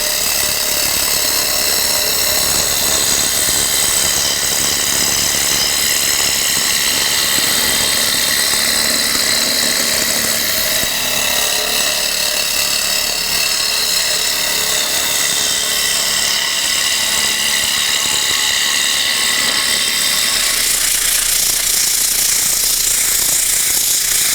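A wood lathe spins a workpiece while a tool cuts it to a cone, producing a loud, close, continuous whining scrape with a steady drone that holds throughout, shifting slightly in tone as the cut proceeds.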